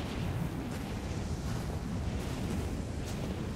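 Steady wind roars through a snowy wilderness in Rise of the Tomb Raider, a continuous broadband gusting rush with low rumbling buffeting and no voices.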